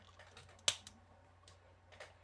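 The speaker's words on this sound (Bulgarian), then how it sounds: "Вземате ето това, което вече сте построили и го щраквате с другото." Lego bricks for a grabber toy build clicking together in one sharp, close snap, followed by a few softer plastic clicks and rustles in a quiet room.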